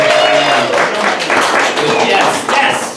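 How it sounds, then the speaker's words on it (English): An improv show audience gives a short, lively round of clapping, a dense burst of hands that swells and fades over a few seconds. "Round of applause."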